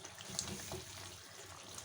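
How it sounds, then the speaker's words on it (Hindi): Half a cup of water poured into a pot of cooking chicken korma, a faint, steady splashing pour lasting a couple of seconds. "तो मैंने हाफ कप इसके अंदर थोड़ा सा पानी डाल दिया है"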